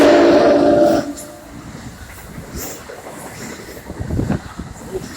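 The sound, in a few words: train on the North East Corridor line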